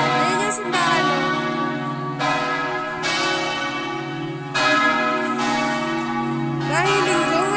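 Church bells in Venzone, Italy ring out on a Sunday in layered, sustained peals, with new strikes every second or two and long humming tones lingering between them.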